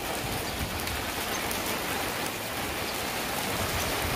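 Heavy monsoon rain falls steadily in a dense, continuous hiss with no breaks, close and enveloping.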